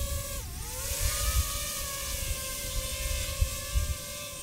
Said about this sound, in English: So this is just behaving like a regular drone right now.